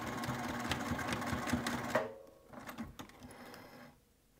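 A sewing machine stitches a narrow seam on a fabric wristlet with a rapid, steady mechanical whir, then slows into a few shorter bursts of stitching before stopping.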